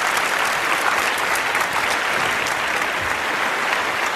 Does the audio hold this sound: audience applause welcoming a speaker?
yes